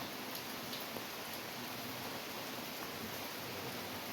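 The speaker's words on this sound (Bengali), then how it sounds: "মেঘ করে এই যে বৃষ্টি হচ্ছে" Steady rain falls from an overcast sky after hours of early-morning downpour, heard as a soft, even, continuous hiss at a distance, faint and unbroken, with no voices.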